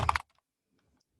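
A quick burst of computer keyboard typing as a word is entered, a few rapid close clicks lasting a fraction of a second, then near silence.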